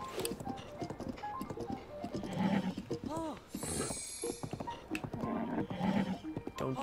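A horse in Breath of the Wild whinnies with a rising, wavering neigh over hoof clip-clops on a narrow bridge, and someone talks over the game sounds.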